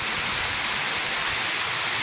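Waterfall spilling at the bottom of a dam on Paris Mountain, South Carolina, a loud, continuous close rushing roar with no voices.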